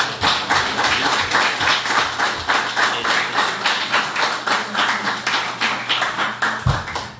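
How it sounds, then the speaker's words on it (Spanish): Audience clapping at a public-sector employment law conference, a steady sustained round of applause from a crowd of hands with a faint low hum underneath, ending abruptly. "Un aplauso a esta primera"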